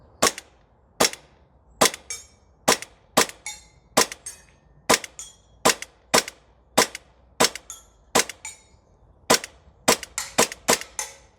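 A Novritsch SSP28 airsoft pistol fires about twenty sharp, snappy shots on a range, each a crisp crack with a short rattling tail, spaced unevenly at first and then quickening near the end.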